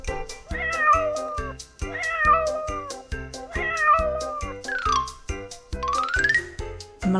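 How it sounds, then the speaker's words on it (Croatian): A domestic cat gives three drawn-out meows in a row, followed by bright rising whistle-like tones, all over a steady, ticking musical beat. "Mekana kućna životinja prede i mjauče."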